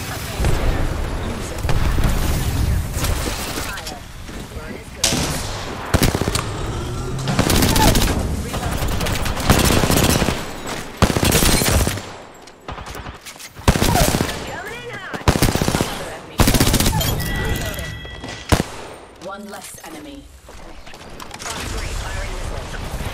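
Gunfire from a shooting video game comes in repeated loud automatic bursts separated by short gaps, with mechanical clatter between volleys and a voice talking at times.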